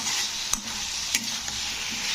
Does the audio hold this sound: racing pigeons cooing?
no